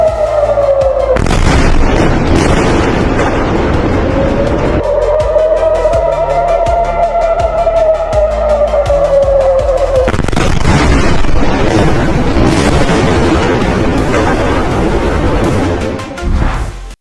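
Loud, continuous booming roar of explosions at oil refineries in Haifa, with a rising and falling whine running through it, dense and overwhelming from start to finish.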